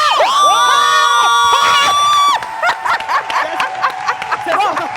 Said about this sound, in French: On peut applaudir s'il vous plaît un peu.